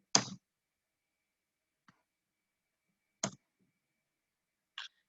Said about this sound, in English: And I am clicking an enter button.